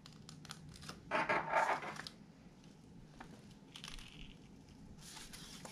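Paper pulled out from inside an origami Scottie dog fold gives a short, close crinkling rustle of about a second, with faint handling and scraping noises before and after in a quiet room.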